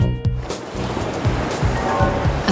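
Ocean surf rolls and crashes in steady, loud waves with a constant rushing hiss, used as a sound effect in an advertisement for a Midea Blanc residential room air conditioner.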